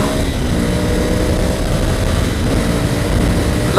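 A Ducati Scrambler Cafe Racer motorcycle is ridden on the road, its engine a steady close drone mixed with heavy rushing wind.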